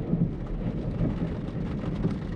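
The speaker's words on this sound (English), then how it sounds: "Lightning's crashing." Thunder rolls through a rainstorm, low rumbles rising and falling over a steady, close hiss of rain with no voices.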